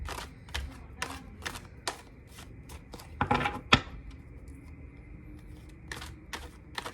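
A deck of tarot cards is shuffled up close in a quiet room, producing quick, crisp riffling bursts and soft snaps. The bursts come in irregular clusters and separate flicks, with a louder flurry near the middle.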